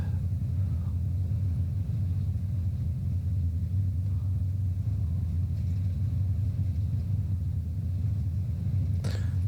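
Deep, steady roar of an inibuilds A350-900's engines in reverse thrust during landing rollout in Microsoft Flight Simulator 2024, a loud continuous low rumble holding evenly throughout with no voices.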